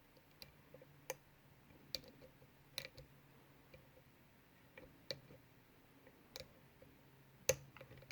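Small metallic pin clicks come from a Master Lock No. 19 being picked, faint, sparse and close, spaced irregularly about a second apart over quiet background.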